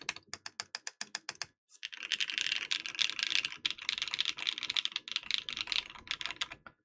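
Fast typing on an Ophanim prototype mechanical keyboard with PBT keycaps: a few separate clacky keystrokes, then a dense, rapid run of crisp, close keypresses with no talking.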